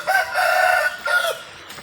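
Rooster crowing with hens clucking on a farm during heavy rain, a loud sustained crow close by followed by a shorter second call, with no talk.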